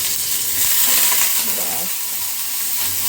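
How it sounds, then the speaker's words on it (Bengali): Chopped onion frying in a hot pan while a simple mashed dish with rice is made, a steady bright sizzle throughout with a few stirring scrapes near the middle and no talking. "একটু পেঁয়াজ কুচি দিয়ে দিলাম"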